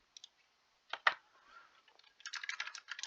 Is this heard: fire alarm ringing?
no